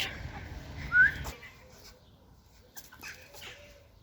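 A chicken gives a short cluck and squawk amid a brief flurry, then quieter scratching and faint clucks follow in a calm setting.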